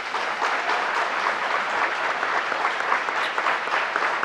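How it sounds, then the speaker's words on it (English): Rochester audience applauding Governor Cuomo at a gang violence announcement, a dense, steady wash of clapping from a large crowd that holds at even loudness throughout with no voices on top. "Rochester, please stand up and give our governor a big round of applause."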